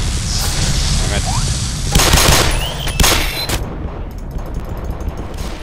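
Bursts of gunfire in the first-person shooter Black Mesa, rapid close shots that peak in loud cracks around the middle, with a voice talking over parts of the firing.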